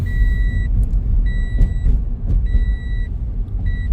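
A car drives through a residential neighbourhood in Roseville, California, in the evening, with a steady low road rumble and engine hum, overlaid by a repeating high electronic beep in four on-off bursts.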